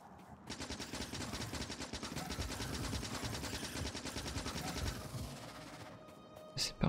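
A machine gun fires in a video game, a long rapid burst of evenly spaced shots that keeps going for several seconds and then stops, with faint background game ambience.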